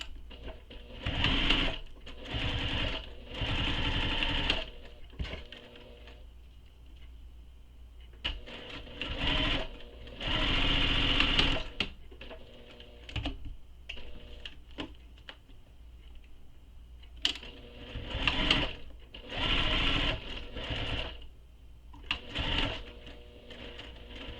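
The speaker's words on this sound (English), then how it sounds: "We're going to top stitch these on both sides using the seam allowance that's given in the pattern" A sewing machine top stitches a Nora bag in repeated bursts of close, rapid mechanical whirring, each run lasting a second or two, with short pauses and faint clicks between runs.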